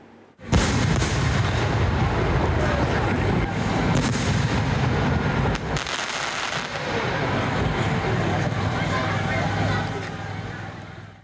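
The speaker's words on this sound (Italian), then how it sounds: "Tutto il paese con il naso all'insù per ammirare i fuochi d'artificio" Fireworks exploding at the closing of a traditional village festival near Treviso, a dense, loud barrage of booms and crackling bursts that overlap continuously for several seconds.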